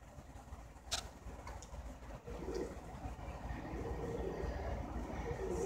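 Pouter pigeons coo softly, a faint low murmuring under a steady background rumble and occasional rustles.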